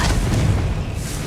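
A fiery Confringo blast spell going off in Hogwarts Legacy, a dense low booming burst that rumbles on steadily through the moment, loud and close with no voices over it.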